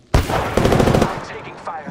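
Gunfire in the Apex Legends video game: a sharp opening shot, then a rapid burst of automatic fire lasting about a second, followed by fading echoes and small clicks.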